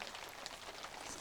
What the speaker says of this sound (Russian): По крыше грохот просто дождевой.